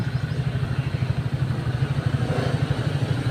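Motorcycles idle in a queue at a terminal, with a steady, close, pulsing low engine chug that carries on throughout.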